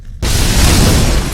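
Backdraft in a house fire: a sudden violent reignition of accumulated combustion gases, erupting after brief near-silence into a loud, sustained roaring blast that holds steady for over a second.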